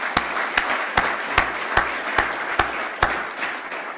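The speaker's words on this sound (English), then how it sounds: "let's just take a moment and have a round of applause for all of our sponsors" Conference attendees applaud sponsors: a continuous patter of hands punctuated by loud, sharp, evenly spaced claps close by, roughly two to three per second, sounding alone with no talk.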